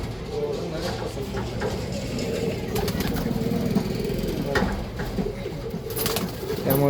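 Pigeons of a flying breed coo from a box loft beside a municipal toilet, soft and continuous under a steady background of people talking and distant engine noise.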